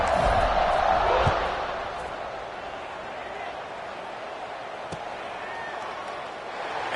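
A stadium crowd roars in NCAA 26 college football, a loud swell at first that settles into a steady murmur under a play-by-play commentator.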